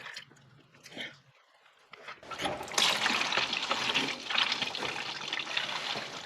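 Transmission fluid drains from the DSG reservoir of a VW Golf Sportwagen Mk7 with a DQ250 gearbox, a steady liquid trickle and splash into a jug. A few soft knocks come first, then continuous close pouring.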